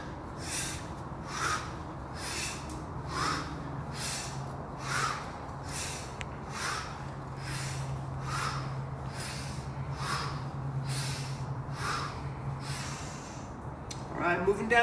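Slow, deep breathing during a jiu-jitsu class warm-up, with about a dozen evenly spaced breaths, each a soft airy swell repeating roughly every second and a half, faint and close.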